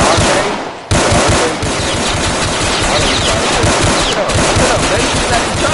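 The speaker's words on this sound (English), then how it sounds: "They shooting at each other." Rapid automatic gunfire from the Roblox game South Bronx Trenches rattles loud and close in dense continuous bursts, with a brief pause near the start before resuming.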